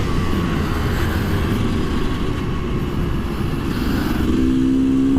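A KTM EXC 250 two-stroke motard, ridden on tarmac, gives a loud, continuous engine drone with rough sputtering, heard close up under wind noise.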